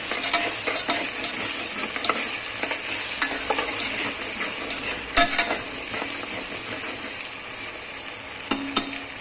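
Chicken curry with onions fries in a pan under steady stirring, a continuous loud sizzle with scraping and clinks of the spoon against the pan, close up and with no voices.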